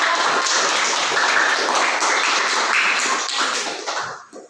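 A classroom group claps for group A after its presentation, giving dense, steady applause from many hands that carries on evenly for several seconds and then fades out near the end, with no talk over it.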